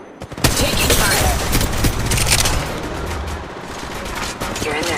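Rapid automatic gunfire and bursts of shots in the mobile battle royale game Apex Mobile, loud and dense at first, then thinning out, with game sounds and effects underneath.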